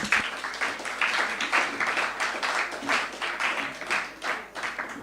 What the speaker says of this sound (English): let us give them a round of applause again